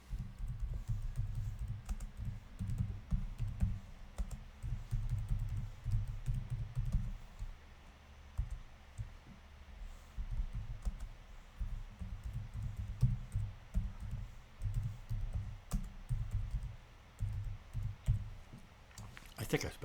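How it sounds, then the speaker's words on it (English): Computer keyboard typing in quick irregular bursts of close clicks, with a low background hum throughout. "I want to type in"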